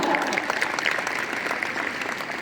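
A school prize ceremony audience at Usharaje High School, Kolhapur, claps continuously in dense, loud, sustained applause with no gaps.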